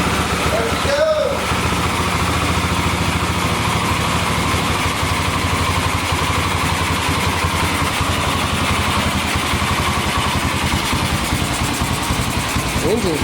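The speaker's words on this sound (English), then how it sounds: "Engine's nice and quiet." A 1991 Yamaha XT 350 dirt bike engine idles steadily and close by, running cold with an even, continuous rumble throughout.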